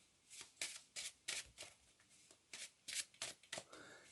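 Quick riffling and snapping of a small packet of playing cards being shuffled for a card trick, a dozen short crisp bursts in an uneven rhythm, close and fairly quiet.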